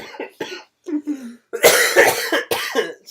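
A woman's coughing fit: several harsh, loud coughs in quick succession following a few brief vocal sounds, close to the mic.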